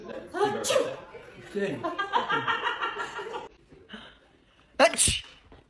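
People laughing and chuckling, then a quick, sharp sneeze bursts out near the end after a brief pause.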